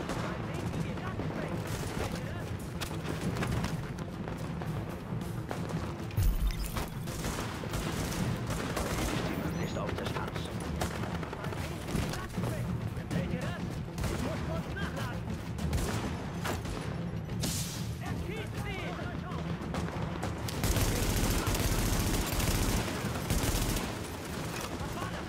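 Rapid gunfire in the shooter game Tom Clancy's The Division, dense bursts of automatic shots and heavier booms running almost nonstop, with a player's voice talking over it at times.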